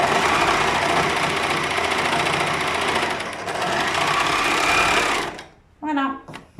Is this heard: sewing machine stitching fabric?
yes